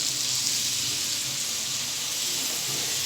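A continuous, even sizzle of seafood deep frying in hot oil, close and fairly loud, with no voices.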